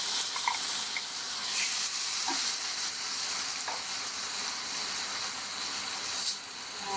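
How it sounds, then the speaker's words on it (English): Raw grated mango dropped into dry spices frying in a pan for mango chutney gives a continuous close sizzle with a few soft stirring taps and scrapes, with no talk over it. "Now we'll add this raw grated mangoes."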